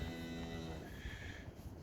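A cow lets out a single drawn-out moo close by on a farm with a calf resting nearby, the low harmonic call filling the whole moment with no talking.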